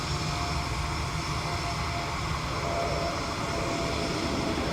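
A Norwegian airliner at Dublin Airport on a rainy day gives off a steady broadband engine roar that holds constant and fairly loud for the whole clip, with no voices over it.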